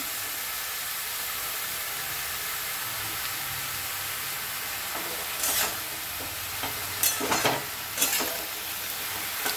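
A spoon stirs spinach as it cooks in a pan. Steady sizzling and frying run throughout, and louder scraping strokes come in bursts near the end.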